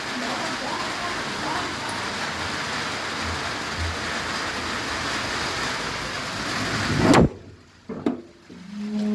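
Steady rain pours down over a rooftop garden, a dense, continuous hiss that runs loud for about seven seconds, then cuts off abruptly, leaving near silence broken by a few brief thumps and handling noises.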